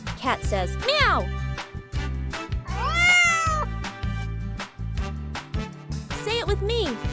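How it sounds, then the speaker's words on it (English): Three clear cat meows rise and fall over a loud, steady musical beat, each one distinct and close, with a longer drawn-out meow in the middle. "Cat says meow."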